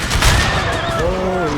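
A burst of gunfire from a general's craft in a Total War game mod, a loud close crack followed by rumbling booms and ringing tones within under two seconds.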